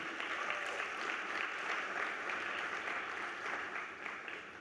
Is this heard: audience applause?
yes